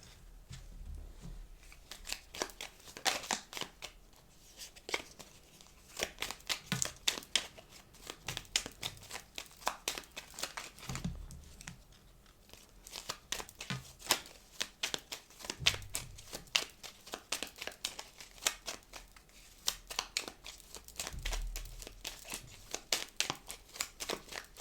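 Tarot cards are handled and shuffled close up, with bursts of crisp riffling, flicking and papery rustles in irregular clusters, fairly quiet and with no talking.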